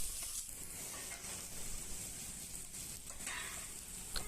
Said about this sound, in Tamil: ஓகே, நல்லா வதங்கிட்டுருக்கு கத்திரிக்காய்